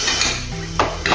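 A spoon stirs aloo chaat spices in a bowl with close, scraping metallic clinks, two sharper knocks standing out over a short stretch of stirring.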